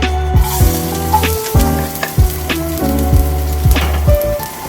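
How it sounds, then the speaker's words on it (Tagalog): Garlic frying in a pan for a shrimp dish, with a loud, continuous close-up sizzle and crackle and occasional soft knocks from stirring. "Siyempre, sunugin natin ang bawang para mabango"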